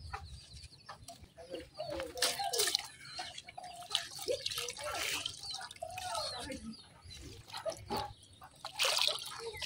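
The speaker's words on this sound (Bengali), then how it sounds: "এই যে আমার মাছটি ধোয়া শেষ," Cut taki fish is washed by hand in water in a village setting, with irregular splashes and drips close by while a hen clucks in the background.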